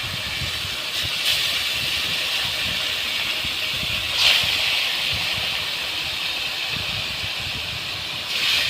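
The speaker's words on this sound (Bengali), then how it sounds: "ওই তেলে আবার মাছ দিয়ে দিল।" Fish frying in hot oil gives a steady, fairly loud broadband sizzle and hiss that runs throughout, with brief louder crackling bursts near the start, the middle and the end.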